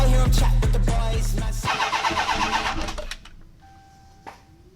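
A Dodge Demon's engine cranks and catches with a loud, rough rumble, then revs unevenly before dropping away to a quieter idle, ending with a brief click.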